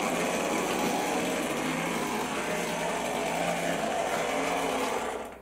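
A Hornby R761 model locomotive runs along its track with a steady, high-pitched motor whine and rattling wheels, holding constant before easing off at the end.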